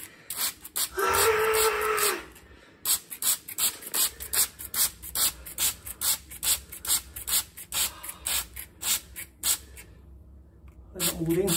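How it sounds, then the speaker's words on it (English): A long hissing spray burst, followed by a rapid series of short, rhythmic spritzes of soapy water from a pump sprayer aimed at a cockroach, close by, with a final spray at the end. "Soap water! Spray!"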